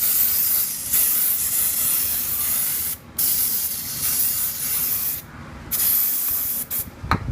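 Long, loud bursts of brake cleaner aerosol spraying close by onto a brake pad from a 2008 Lexus RX350, broken by a few brief pauses, with a short clatter near the end.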